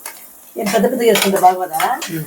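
Thinly sliced garlic hits a pan with mustard seeds while cooking bun upma, a close, busy sizzle mixed with clattering spoon-on-pan stirring that rises after a quiet start.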